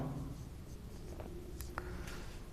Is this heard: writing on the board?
yes